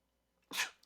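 A single sharp human sneeze, close and fairly loud, bursting out after a short quiet intake and fading quickly, with no talk over it.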